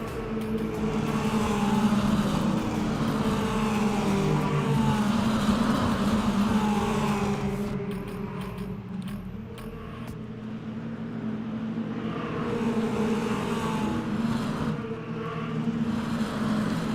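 A pack of mini stock race cars in iRacing runs pace laps, their engines droning loud and constant in a blended roar that eases slightly midway and then builds back up.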